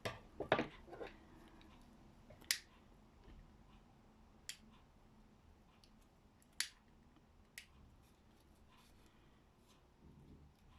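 Scissors snipping thread while stuffed vine leaves are tied, a few sharp, isolated clicks spaced a couple of seconds apart over a quiet room background, with no talk.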